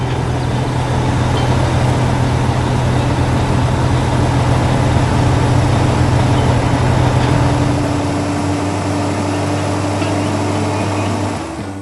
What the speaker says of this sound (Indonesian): semua truk sedang bekerja keras di tengah tanah pasir